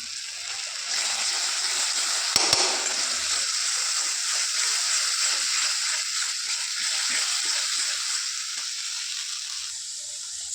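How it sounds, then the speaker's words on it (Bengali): A little water is poured into chili powder, coriander, cumin and salt for a rohu fish curry, making a loud, steady sizzling hiss that carries on for about ten seconds. "সামান্য একটু জল অ্যাড করলাম।"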